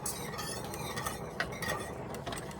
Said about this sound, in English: Give that a stir because some of it's starting to stick to the bottom